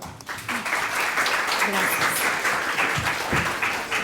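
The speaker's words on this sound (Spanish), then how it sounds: "Un fuerte aplauso, por favor." Audience members at an academic citizens' forum break into sustained applause, a thick, even patter of clapping that fills the room.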